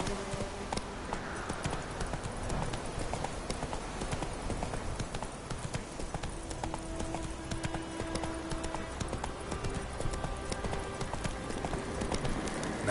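Roach, the horse in The Witcher 3, galloping with a steady rapid clip-clop of hooves throughout, with game ambience and occasional faint voices in the background.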